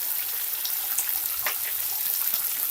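Lemon pepper chicken fries over a high flame, a steady bright hiss of sizzling oil with scattered crackles and pops, close and continuous.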